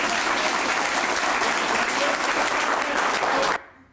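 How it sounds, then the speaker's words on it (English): Dense, steady applause from an audience at a legal ethics roundtable on language and lies in court, loud and continuous for about three and a half seconds before cutting off abruptly. "You can applaud too."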